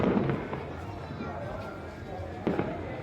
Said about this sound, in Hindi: ये सब पटाखा सब फोड़ रहे हैं